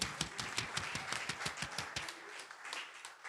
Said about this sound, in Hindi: इसलिए मैं चाहता हूं उनके लिए जोरदार तालियां होनी चाहिए